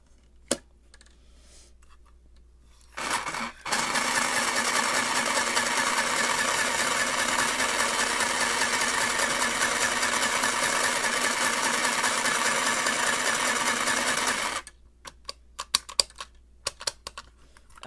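A Singer toy sewing machine runs in one continuous whirring stretch of about eleven seconds, close and steady, with small clicks and handling taps before and after.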